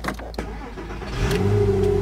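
A Porsche Boxster 986 engine idles and then swells into a steady, rising rev, close by with a low throbbing hum and no talking.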